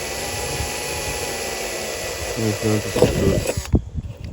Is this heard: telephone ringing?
no